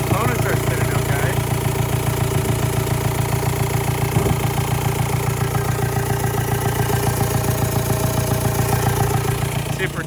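A swapped TDI diesel engine runs steadily at idle with a dense, even low rumble and a rapid knocking pulse throughout, close and continuous.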